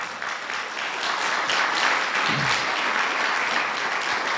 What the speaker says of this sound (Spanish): Vale, y dale un fuerte aplauso al Señor.